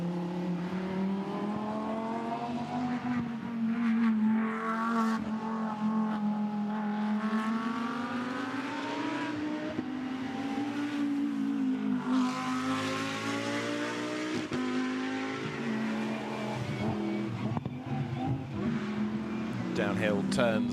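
A Porsche GT2 race car's engine howls through rising and falling gear changes during free practice at Spa, loud and sustained for the full stretch, with a commentator talking over it throughout.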